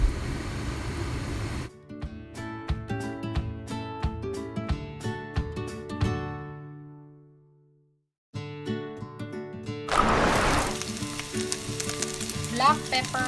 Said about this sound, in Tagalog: And so we're just gonna put the onion here for a while and let it cook for about a minute or so.